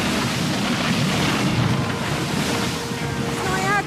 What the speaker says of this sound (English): before the tidal wave is unleashed